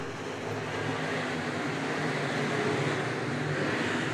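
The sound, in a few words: modified race cars racing at Cedar Lake Speedway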